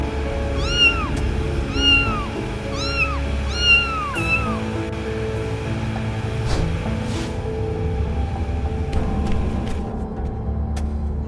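Several cats meowing in the video game The Emerald Maiden, about six short rising mews in the first few seconds over a steady low rumbling ambience that carries on alone afterward.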